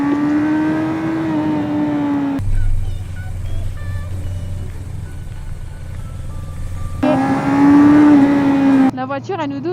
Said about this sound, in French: La voiture elle nous double en virage